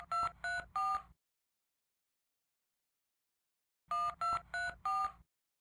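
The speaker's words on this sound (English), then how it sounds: "I'll try the number for you." Touch-tone phone dialing a number: two quick bursts of three to four beeping keypad tones, separated by about three seconds of silence, clear and close.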